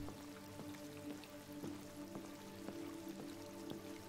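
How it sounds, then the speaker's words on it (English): Rain in the video game Detroit: Become Human, a faint, steady patter of drops with a quiet dripping rhythm and a low background hum, no talking. "Look at this rain, though."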